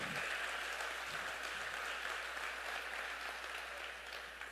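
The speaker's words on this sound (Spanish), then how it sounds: "Dele un aplauso al Señor" Church congregation clapping in praise to the Lord, a steady wash of many hands applauding at moderate distance, fading slightly toward the end.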